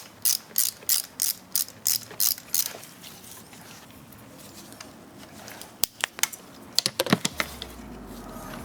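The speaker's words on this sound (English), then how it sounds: "take our 3/8 ratchet" A 3/8 ratchet clicks in short, rapid bursts while tightening a spark plug on a Mercedes M272 engine. The clicks are close and crisp, with a pause between two sets of strokes.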